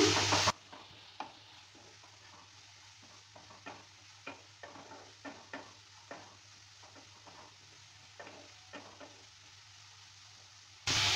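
A spoon stirs turmeric, salt and Kashmiri chili powder in a pan over low-medium heat, giving a string of quiet, separate scraping taps over a soft steady sizzle with no talking.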